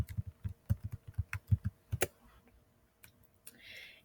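Fingers tap a computer keyboard up close in a quick run of keystrokes, then a short pause followed by a few scattered clicks, all quiet and without speech.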